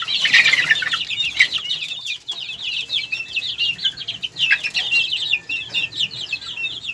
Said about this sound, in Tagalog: bisitahin naman natin ang ating mga manok.